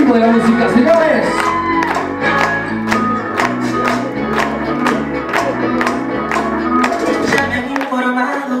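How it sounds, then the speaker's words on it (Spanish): Crowd at a quinceañera party clapping in time with loud Latin dance music, sharp regular claps falling on the beat over a thumping mix, with some shouts and whoops among the guests. "Las palmas al ritmo de la música, señores."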